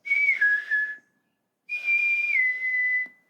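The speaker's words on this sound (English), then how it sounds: "Christopher Robin whistled in a special way that he had" Two clear whistled phrases, each a steady tone that dips slightly in pitch, separated by a short pause, close and alone.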